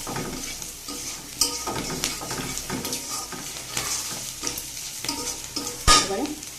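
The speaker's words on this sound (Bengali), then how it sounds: "দেখুন মশলাটা কিন্তু বেশ ভালো করেই কষানো হয়ে গিয়েছে" Spice paste with green peas sizzles in a pan for pulao while being stirred, a steady frying hiss broken by scraping strokes and a louder clack of the spoon near the end, with no talking.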